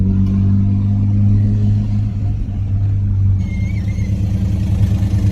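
Mazda RX-7 FD engine droning steadily from inside the car, a loud low hum that shifts to a rougher rumble as it pulls away, no voices.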